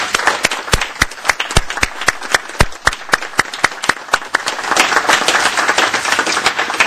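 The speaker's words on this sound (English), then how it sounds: "I hope you'll join me in giving him a round of applause." A crowd at a transit authority board meeting claps in a round of applause, dense sharp claps at first that swell into a fuller, steady wash of clapping.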